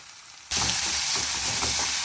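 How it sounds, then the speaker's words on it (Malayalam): Chopped ginger and green chillies are dropped into hot oil in a pan, bursting into a sudden, loud, steady sizzle that holds close and continuous after a quieter start. "ഇഞ്ചി നന്നായിട്ട് മൂത്ത് വരണം"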